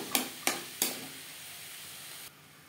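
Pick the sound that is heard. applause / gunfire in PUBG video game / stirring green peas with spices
stirring green peas with spices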